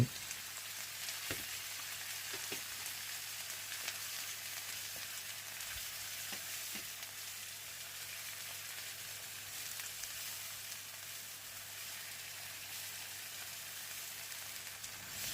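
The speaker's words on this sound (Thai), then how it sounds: "ผัดไปจนทุกอย่างสุกตามชอบ" Broom flowers and liver stir-frying in a pan with oyster sauce, sugar and soy sauce, giving a steady close sizzle and crackle throughout with a few soft scrapes, no voices.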